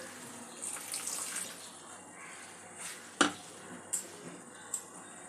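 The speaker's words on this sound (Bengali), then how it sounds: "মশলাটা কষবার জন্য সামান্য জল দিয়ে দেব।" A little water poured into spices frying in a pan for a Bengali egg curry, giving a soft hiss and sizzle followed by a few sharp clinks, close and moderately quiet.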